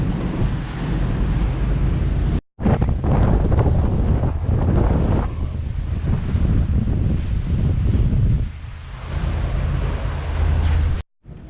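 Strong wind buffets the microphone in loud, continuous low rumbling gusts, with a brief dropout partway through and another near the end.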